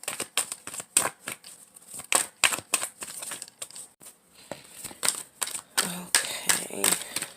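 Rapid crisp riffling of shuffled playing cards comes in repeated bursts, close and sharp, with brief pauses between the shuffles.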